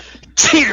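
A single sharp sneeze bursts out loudly near the microphone after a brief quiet moment, with a short voiced exclamation just before it.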